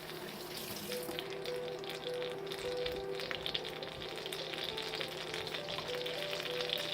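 A piece of onion sizzles in hot cooking fat on an induction hob, a steady close frying hiss that holds evenly throughout with no talk.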